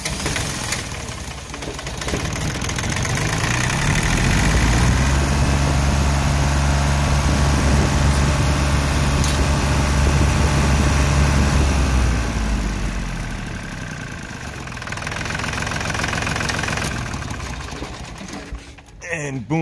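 A diesel engine runs loud and close during air bleeding with the fuel return line partly pinched, the throttle pushed up so the rough, knocking drone climbs and holds steady, then eases back down toward idle.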